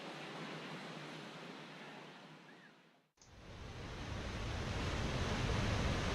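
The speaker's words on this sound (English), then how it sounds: "we see a great example here of a waterfall into a pond" A waterfall at Barranca del Cupatitzio drops into a pond, giving a dense, steady rushing hiss. The sound cuts out briefly midway, then returns louder and fuller.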